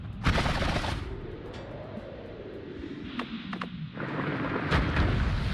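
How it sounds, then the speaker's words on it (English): Explosions in the pixel-physics game Noita burst with heavy, rumbling booms, a loud blast at the start and further sharp detonations later, over a low continuous roar and crackle. "Oh, I didn't expect it to detonate immediately on contact like that."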